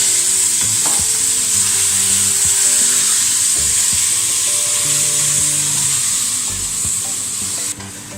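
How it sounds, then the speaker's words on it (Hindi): Chicken fries loudly with spices in a pan, a steady close hiss of sizzling oil running throughout, broken by occasional scrapes and stirring knocks, with no voices. "जब मसाला भुनाई पर आ जाए, जैसे कि इसमें नज़र आ रहा है, तो इसमें चिकन डालकर चिकन को भी भुनेंगे।"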